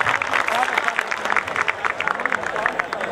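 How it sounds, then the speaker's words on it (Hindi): Applause from a college audience at a second-year farewell party, dense sustained clapping with crowd noise and some voices mixed in, fairly loud and close throughout. "जोरदार तालियों से जवाब दीजिएगा"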